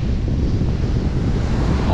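Strong coastal wind buffets the microphone in a constant loud roar, mixed with the wash of surf, while fishing on a clear-water coast.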